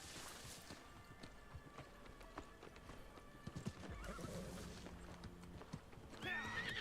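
A game horse clip-clops along in quick galloping hoofbeats, close and clear, with a whinny near the end; a quiet voice talks faintly in the background.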